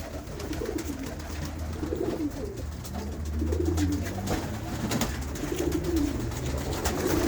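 Pigeons coo in low, repeated throaty rolls, close and continuous, with a young white hen pigeon among the flock of flying pigeons.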